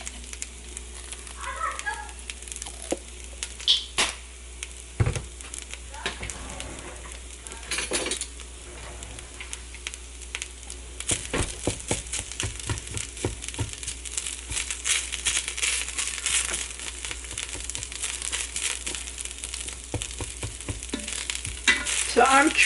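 Meatless beef crumbles browning with squirted-in garlic in a Ninja Foodi, a steady sizzle with scraping spatula strokes and occasional clinks, moderately close and building louder toward the end.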